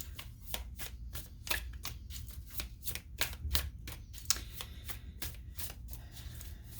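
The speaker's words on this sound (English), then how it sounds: "I shuffle until either a card pops out or it gets stuck in my hand." Tarot cards are shuffled repeatedly in quick, riffling bursts, soft and close, with no talking.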